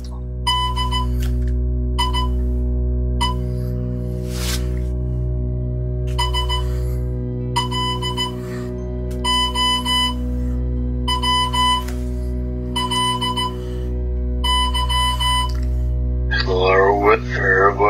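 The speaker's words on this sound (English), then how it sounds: "Can you answer the phone? Stop it ringing." An old landline telephone rings in a regular pattern of bursts with pauses, repeated about nine times over a steady low hum, with a voice coming in briefly at the end.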